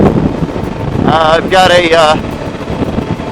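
Steady wind buffeting the microphone on a very windy day while riding a Suzuki V-Strom 650 motorcycle, a continuous low rumbling roar with someone talking over it partway through.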